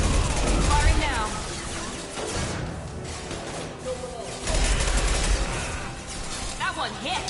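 Gunfire in Mass Effect Legendary Edition crackles in dense, chaotic volleys mixed with impacts and whooshes, the loud battle continuing throughout while a voice talks over it.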